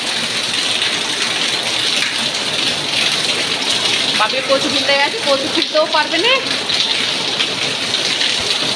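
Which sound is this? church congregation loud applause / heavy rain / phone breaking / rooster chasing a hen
heavy rain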